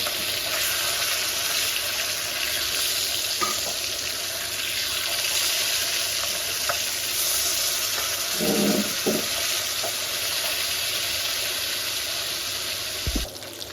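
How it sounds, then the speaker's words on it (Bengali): Fish sizzling steadily in hot oil in a pan, a dense continuous hiss throughout, with a brief louder bubbling burst midway and a faint clink near the end. "মাছগুলো এক এক করে সব ভেজে নিচ্ছি।"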